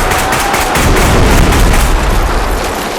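Gunshots in the first-person shooter Bodycam, a loud dense barrage of rapid overlapping reports with heavy low-end rumble, continuous and close throughout.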